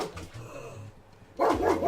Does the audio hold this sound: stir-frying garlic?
no